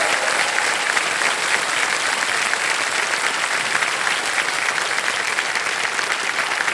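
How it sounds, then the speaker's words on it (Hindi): Studio audience on a TV quiz show applauds a contestant, dense continuous clapping from many hands at a steady loud level throughout, with no voices over it. "तो जोरदार तालियां कशिश के लिए।"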